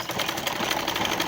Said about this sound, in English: We sew it down from the beginning to the end of the sleeve.